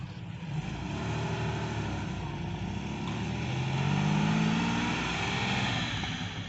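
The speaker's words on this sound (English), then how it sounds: "We've got a Porsche Carrera flying away here." A Porsche Carrera sports car accelerates away outside the Dovecote Inn, its engine a steady, loud roar that swells to a peak near the end before easing slightly as it pulls off.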